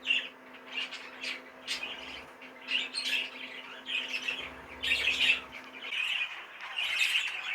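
Young racing pigeon giving repeated short, harsh squawks in irregular bursts, close but fairly quiet, over a faint steady background hum.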